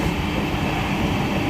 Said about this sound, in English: I am in train number 16236.